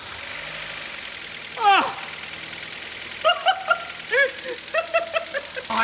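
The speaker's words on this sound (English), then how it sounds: "Oh, it sounds like a diesel though. It's very ticky." A badly damaged car nicknamed The Goober idles with a steady, ticking diesel-like clatter, a continuous rough hum under an exclamation and excited talk.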